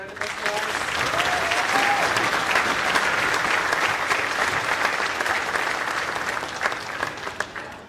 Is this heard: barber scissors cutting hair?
no